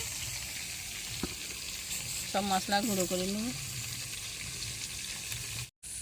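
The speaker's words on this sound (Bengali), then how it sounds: "মাছের কাঁটাটা এখন ভেজে নিচ্ছি, ভাজতে তুলে দিয়েছি।" Bhetki fish bones frying in a pan give a steady low sizzle throughout, while someone speaks briefly over it.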